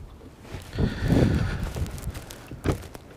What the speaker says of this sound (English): Here's that wind kind of whipping around.